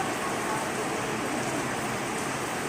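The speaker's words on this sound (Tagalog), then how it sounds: "umuulan kasi kaya walang signal" Steady, dense rain hisses continuously without a break, a uniform wash of noise.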